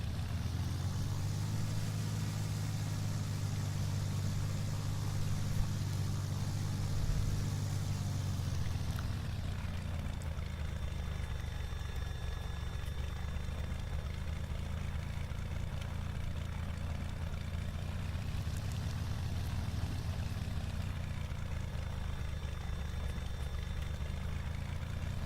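A simulated Beechcraft Bonanza V35B piston engine in X-Plane 11 drones steadily while the plane taxis to park by a hangar, its pitch and level dropping partway through as the throttle eases, then holding at a lower idle.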